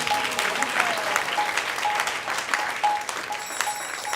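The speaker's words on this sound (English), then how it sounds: "big round of applause to the vases team" Applause for the vases team at an ISKCON temple's Rama Navami evening celebration: steady, dense clapping from a gathered crowd, fairly loud and continuous throughout, with a faint tone persisting beneath.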